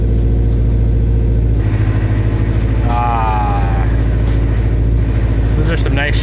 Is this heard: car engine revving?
yes